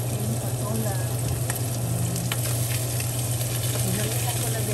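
Sponge gourd (patola) stir-frying with brisket in a pan, giving a steady, continuous sizzle and crackle close up over a low constant hum, with no clear pauses.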